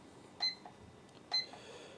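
A Technoline WS6446 weather station beeps as its mode button is pressed, two short high-pitched electronic beeps about a second apart, each with a faint click, in a quiet room.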